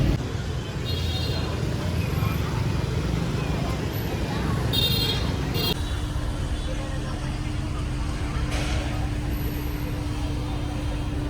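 Steady street traffic roars in Hanoi near a hop-on hop-off bus stop, with engines rumbling, a hiss like an air brake and passing vehicles, while a person talks over the continuous din.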